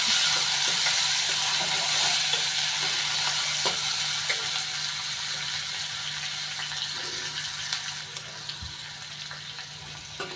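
Finely chopped onions fry in a pan over a normal flame, giving a steady, close, continuous sizzle with a faint stirring rustle and occasional small clicks, no talk.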